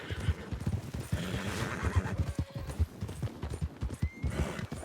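A horse in the video game Red Dead Redemption whinnies loudly over a rhythmic clip-clop of hooves, with the neigh rising and falling across the ride.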